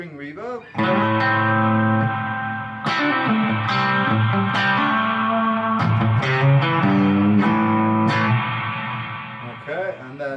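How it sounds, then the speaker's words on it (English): Spring reverb on a Blackstar ID:CORE Stereo 20 V3 guitar amp, with a string of guitar chords and single-note picks ringing into a bouncy, splashy decay, played loud and alone for about ten seconds. "This is a spring reverb."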